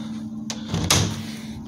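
Double doors to a new apartment's room swing open with a short creak and a soft thud of wood, heard close and alone.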